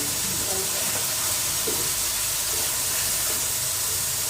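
Steady, loud sizzle and hiss of mutton mince frying in a pan for matar keema while tomatoes are added, a continuous close crackle with a soft thud or two from stirring.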